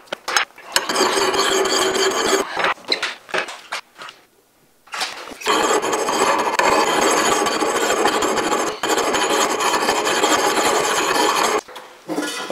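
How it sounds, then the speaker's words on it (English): A hand file rasps across an axe blade in repeated long strokes, loud and close, with a brief pause partway through before the steady scraping resumes. "while I have the file still in my hand, I might as well sharpen this axe at the same time"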